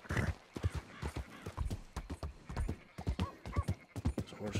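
A horse's hooves clip-clop in Red Dead Redemption 2, a close, steady run of sharp knocks in an even galloping rhythm with no talk.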